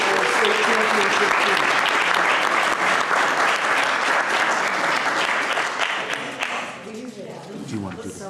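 Sustained applause from an audience at a school district board of education meeting honoring a 2024 state championship team, loud and dense with clapping that tapers off near the end.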